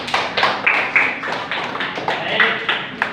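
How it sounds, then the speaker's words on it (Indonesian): A primary school class claps for a classmate, a quick rhythmic patter of hand claps running the whole time with voices mixed in. "Ya, tepuk tangan untuk Mbak Tuti."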